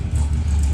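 A drag race car engine runs with a loud, low, steady rumble and slight pulsing throughout the short stretch, close by and alone.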